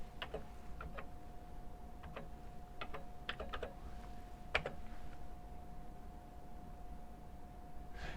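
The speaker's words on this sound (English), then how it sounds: "so I should be able to just type that in." Keystrokes on a Coleco Adam computer keyboard tap out in short bursts and single clicks, close and fairly quiet, over a steady electronic hum.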